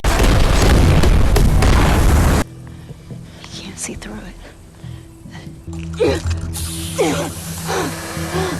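A loud, broad explosion roars for a couple of seconds, then cuts to a quiet scene with faint mechanical clicks and rustling.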